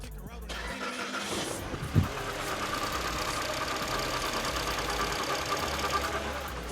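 A car engine idles steadily after an engine wash, a close, even hum with one short thump early on.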